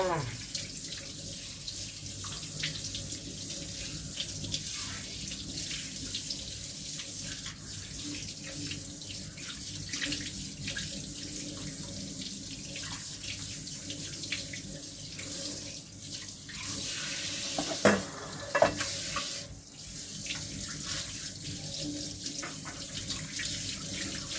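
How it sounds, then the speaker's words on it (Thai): Pork neck is washed under a steadily running kitchen tap, the water's broadband rush continuous and fairly close for the whole stretch, with a few brief knocks and splashes near the end. "ล้างให้สะอาดเลยจ้า"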